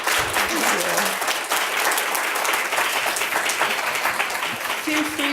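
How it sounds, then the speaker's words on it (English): An audience at a community talk on the opioid crisis applauds two speakers, dense steady clapping filling the room throughout, with faint voices underneath. "Let's have a big round of applause for our two speakers."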